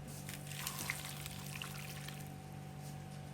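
Boiled water poured over mustard greens being pickled, a steady soft trickle and splash running throughout over a constant low electrical hum.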